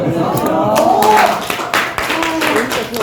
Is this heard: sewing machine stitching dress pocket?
no